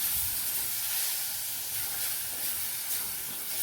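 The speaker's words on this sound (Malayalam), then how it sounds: "നല്ലപോലെ ഒന്ന് വഴറ്റി കൊടുക്കാം." Chopped tomato sautéing in leftover okra oil in a pan for a Kerala-style vendakka mappas, a steady loud hiss and sizzle with no talk.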